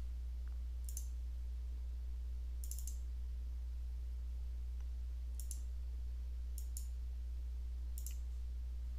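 Computer mouse clicks sound sparsely over a steady low hum, about five crisp clicks, some of them doubled, spread across the stretch, close but quiet.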